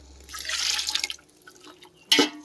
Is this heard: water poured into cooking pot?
yes